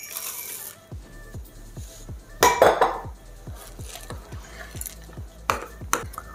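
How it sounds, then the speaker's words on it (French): Handfuls of white chocolate chips drop into muffin batter in a bowl, giving a steady run of soft ticks and clinks of utensil on bowl, with a brief louder scraping burst midway; close and with no voices. "Et là, on va venir mettre nos pépites de chocolat blanc."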